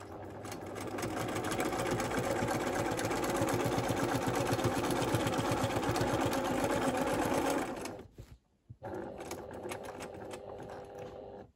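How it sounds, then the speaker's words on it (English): A sewing machine does slow free-motion quilting, filling a grid with rows of stitches; the steady, even motor hum and rapid needle rhythm run up close for about eight seconds, then stop briefly and resume more quietly. "I can just take a couple of slow stitches down this row of stitching"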